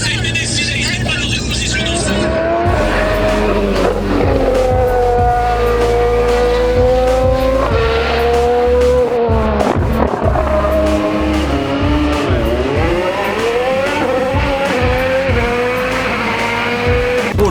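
A race car spinning a donut during winter testing on a track with gravel, its engine revving hard in loud, wavering surges with squealing tires, while excited voices talk and shout over it throughout.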